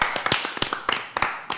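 A few people clap at a Forestella military discharge commemoration live stream, a brief, sparse burst of sharp, close hand claps in an uneven rhythm.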